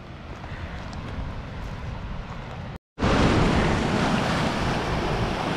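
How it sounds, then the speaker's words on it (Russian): Strong waves breaking on a Caribbean shore in Antigua, a steady loud roar of surf with wind buffeting the microphone, briefly cut off and then returning even louder, no talk. "Шум воды я слышу."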